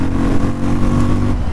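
A Benelli Imperiale 400 BS6 motorcycle fitted with a straight exhaust, its engine giving a loud, steady mid-pitched drone that stays close and continuous, with no talk over it.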